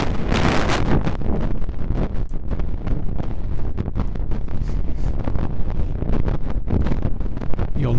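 Broadband hiss-like noise texture from the Airwindows Texturize plugin on a rock track, loud and continuous with a crackling, rushing grain throughout.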